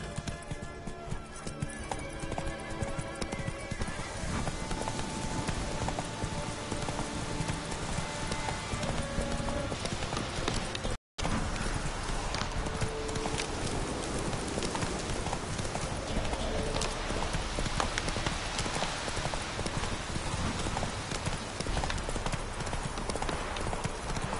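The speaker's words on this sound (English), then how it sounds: "Run, Roach." In the Witcher 3 video game, the horse Roach gallops with fast, steady clip-clopping hooves that keep up a dense rhythm from start to finish, broken only by one brief silent gap, with a voice speaking briefly.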